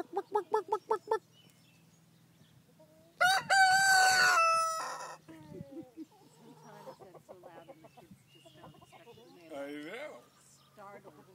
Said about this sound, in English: you hear the chickens, I know.